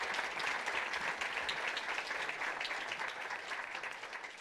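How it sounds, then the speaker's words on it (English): An audience at a conference gives the panelists a round of applause, a dense, even wash of clapping that holds steady and fades slightly at the close. "could I ask you to provide a round of applause and thank the"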